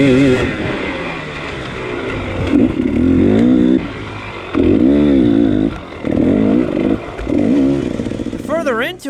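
Enduro motorcycle at the Corduroy Enduro race, its engine rising and falling in repeated revving bursts over rough trail, loud and close, with a rider's voice audible near the end.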